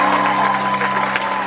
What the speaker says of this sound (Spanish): Muchachos, un aplauso para Marcelino.